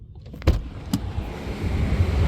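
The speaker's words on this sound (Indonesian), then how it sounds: "Ini di pinggir jalan ada suara jalanan." A window on a 2023 Wuling Cortez Turbo hums open while parked at a roadside, and low street traffic noise swells steadily into the cabin.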